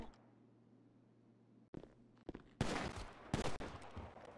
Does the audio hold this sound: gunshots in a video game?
yes